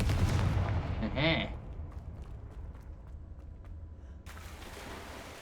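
A Confringo fire blast spell in Hogwarts Legacy erupts in a loud burst with a short booming crack and whooshing flare, then fades into quiet ambient game sound before a faint swell returns.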